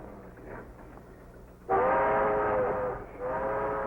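Train running, with a sudden loud horn-like blast that sounds for over a second, pauses briefly, then sounds again over the low rumble of the rails.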